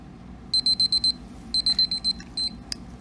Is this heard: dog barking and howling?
no